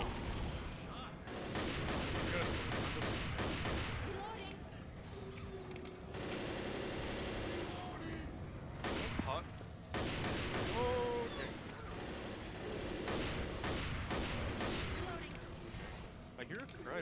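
Rapid bursts of gunfire from the zombie shooter Left 4 Dead, No Mercy campaign, crackle in dense volleys across the whole stretch, loud and close, with players talking over it.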